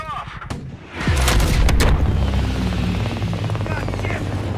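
Heavy gunfire and deep explosions fill a Call of Duty Black Ops Cold War battle, a loud sustained roar with rumbling booms and a helicopter-like drone underneath, close and continuous after an opening swell.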